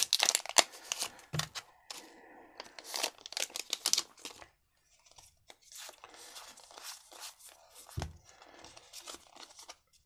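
A Pokémon card booster pack is torn open and handled up close, with sharp bursts of foil crinkling and tearing, a short quiet gap, then more rustling and crackling.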